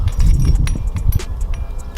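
Keys jangle close up in irregular metallic bursts while a new 2019 truck is unlocked, with soft handling thumps underneath.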